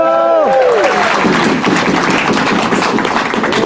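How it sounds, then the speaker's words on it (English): Audience applause and light cheering at the opening ceremony of a pony fan convention, a loud burst of clapping that begins under the fading end of a musical tone and carries on steadily. "give him a round of applause"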